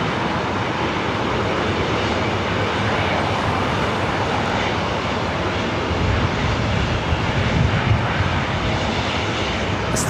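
A Southwest airliner on approach to LAX roars steadily as a broad jet-engine rush, moderately loud and unbroken for about ten seconds, with no voices over it.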